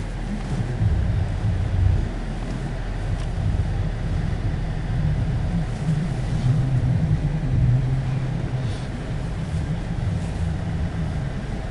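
A 2008 Dodge Charger with a V6 on a test drive: a steady, loud low engine and road drone with wind rush, continuous and unbroken from inside the car, with no voices.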